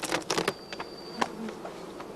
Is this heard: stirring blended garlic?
no